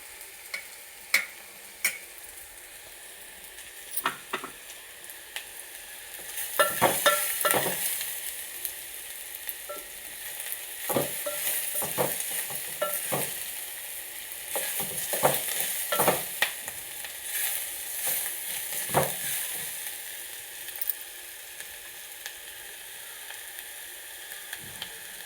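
Onions frying with turmeric in a pan, a steady sizzle running throughout with irregular scraping and clinking as a spoon stirs, close and moderately loud with no talking.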